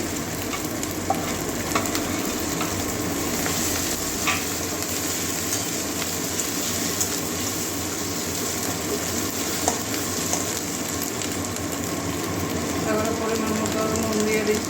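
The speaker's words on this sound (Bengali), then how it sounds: "এবারে টমেটো কুচি দিয়ে দিচ্ছি" Chopped tomato hits hot oil with ginger and garlic, a steady close sizzle with occasional stirring scrapes running throughout, loud and continuous.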